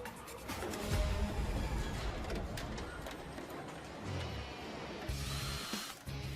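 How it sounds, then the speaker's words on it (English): A power drill whirs steadily amid workshop noise while working on a Jaguar XJ car, revving up and easing off in short bursts, fairly distant, with no talking. "This team makes using a drill look like spreading butter."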